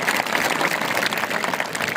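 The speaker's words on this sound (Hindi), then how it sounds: "आप एक बार फिर से इनके लिए जोरदार तालियां बजा सकते हैं" An audience at a digital literacy awareness competition claps steadily, a dense, even wash of many hands that holds at a constant level throughout, with no voices above it.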